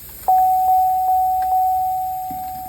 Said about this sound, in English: that door dinger's fucking loud